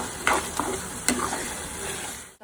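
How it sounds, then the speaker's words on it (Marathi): Masala paste for prawn curry sautéed in hot oil, a steady close sizzle with a few sharp scraping stirs of a spoon against the pan, ending with a brief knock. "हा मसाला आता छान परतवून घेऊया तेलात."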